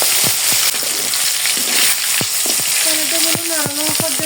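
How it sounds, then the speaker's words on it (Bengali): Chopped tomatoes sizzling in hot oil, a close, dense frying hiss punctuated by sharp clicks of a spatula stirring the pan, with some brief tonal background sounds toward the end. "টমেটোগুলো নাড়ানো পর্যন্ত কষিয়ে নিব।"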